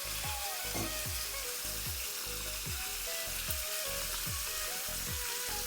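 Spices with turmeric, salt and water stirred in a cooking pan for a Bengali mung dal and potol dish, a steady wet sizzle with repeated scraping strokes of the spoon, close and continuous without talk.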